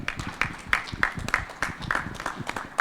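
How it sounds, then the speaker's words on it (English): An audience at an awards evening applauds as a singer is welcomed on stage, rhythmic clapping with regular strong beats, fairly close and loud. "Let's welcome with a round of applause on stage"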